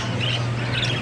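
Pet parakeets (keets) squawking close by, a harsh continuous chatter with short bright calls over a steady low hum.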